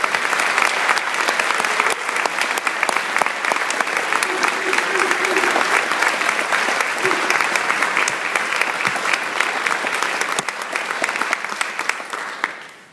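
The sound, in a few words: audience applause for graduating students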